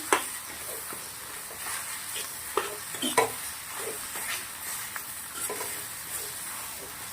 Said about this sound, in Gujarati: આવી રીતના કઢાઈ પકડી પછી મિક્સ કરું છું.